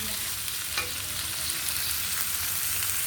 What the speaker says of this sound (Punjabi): ਹੁਣ ਅਸੀਂ ਗੰਡਿਆਂ ਨੂੰ ਭੁੰਨ ਲਾਂਗੇ ਚੰਗੀ ਤਰ੍ਹਾਂ